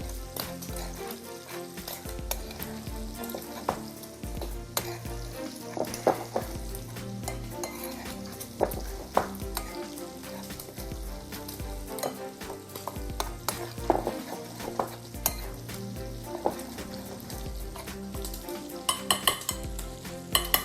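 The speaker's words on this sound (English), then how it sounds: "So our bacon's got a few more seconds to cook." Bacon sizzles and crackles in a frying pan with a continuous close sizzle, broken by frequent scrapes and clinks of a utensil stirring against the pan, and no talk.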